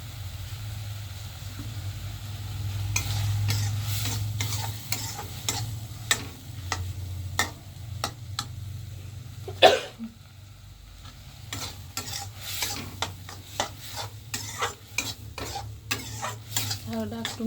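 Food stirred in a frying pan with a little sugar added, a steady low sizzle running throughout while a utensil scrapes and clinks against the pan in repeated sharp strokes, close and fairly loud.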